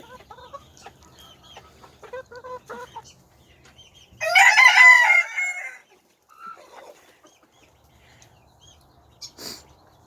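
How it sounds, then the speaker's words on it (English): Backyard chickens give scattered soft clucks at close range, then a rooster lets out one loud, drawn-out crow midway through, followed by more sparse clucking and a short call near the end. "Well, that's some of our chickens"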